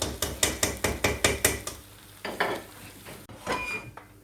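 Flour toasting in a pan for French onion soup, opening with a quick run of about eight rhythmic metallic taps and scrapes from stirring, then softer intermittent scraping over a faint sizzle.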